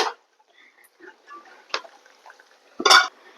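A lid set down on a pot of mackerel chilli curry makes a short metallic clatter near the end, after a softer clink near the start and faint kitchen handling sounds between them.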